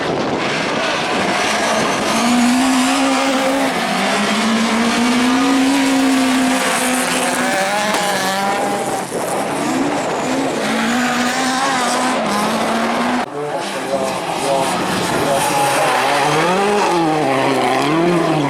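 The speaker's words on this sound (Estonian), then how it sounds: "aga seal on jälle auto käib" Rallycross race car engine at a 2023 Piiroja rallycross event, loud and continuous, its rising and falling revs sweeping through gear changes for the whole stretch, with occasional tire noise.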